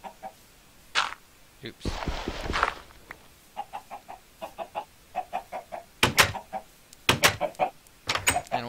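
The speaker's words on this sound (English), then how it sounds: "Oh, you stupid chicken. I hate chickens." Chickens in Minecraft give short clucks in brief clusters, near and fairly loud, with game thumps and footstep noises around them and a player saying a quick word.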